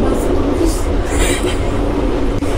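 Train pulling into a station in a train simulator game, a continuous loud rumble of wheels and carriage noise with faint squeal, sounding close and steady throughout.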